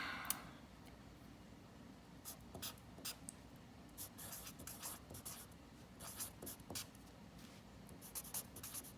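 Pencil or pen writing a poem by hand on paper, a faint close scratching with short strokes and taps in an uneven rhythm, quiet and without talk.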